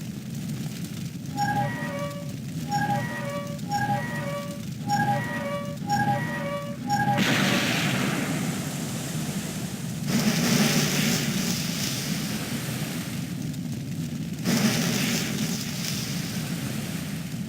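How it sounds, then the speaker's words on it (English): A helicopter fire being put out in Resident Evil 2: a loud, steady rushing hiss follows a run of short chiming game tones, and the hiss continues under a low ambient drone. "And that's a helicopter fire put out."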